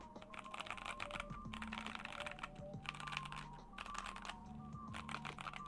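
Keystrokes on a LeleLab Maxum65 mechanical keyboard set fully flat, quick bursts of clacky typing separated by brief pauses, close and clear with no voices.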